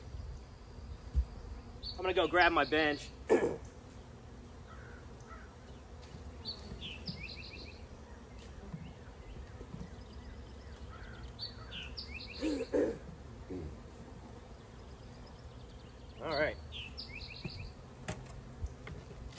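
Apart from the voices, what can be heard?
buzzing honey bees around a hive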